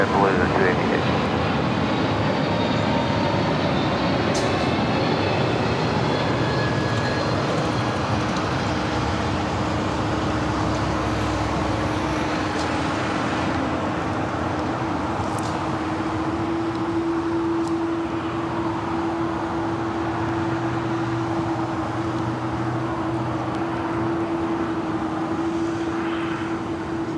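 Jet airliner taking off from LAX runway 25 left, a loud continuous engine roar and rumble filling the whole stretch with a steady rising tone, while tower radio chatter runs underneath.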